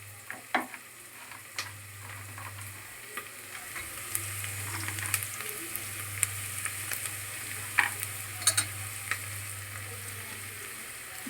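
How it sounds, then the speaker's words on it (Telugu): Mutton biryani ingredients mixed in a pot, a steady quiet sizzle of frying with soft scraping stirring strokes and occasional light clicks, over a low steady hum. "ఇవి కూడా మంచిగా బాగా కలుపుకుందాం 4 వైపులా"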